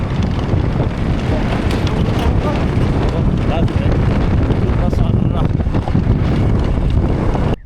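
Strong dusty wind on the road in Upper Mustang, Nepal, roars and buffets the microphone in a steady, unbroken rush of noise from start to finish.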